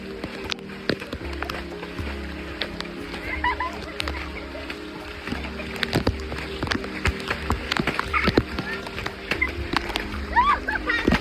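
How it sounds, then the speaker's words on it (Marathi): Lively splashes and sloshing of water as people jump into a forest stream at Andharban, with excited shouting and chatter throughout. "त्या ओढ्याच्या पाण्यामध्ये उड्या मारायला तर फारच मजा येत आहे"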